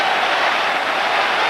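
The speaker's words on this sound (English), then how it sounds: "Wonderful defence from Mike Catt, and the crowd respond" Rugby crowd at an England versus South Africa international in London, 1997, applauding a break upfield; a dense, steady wash of clapping and cheering fills the stadium with no pause.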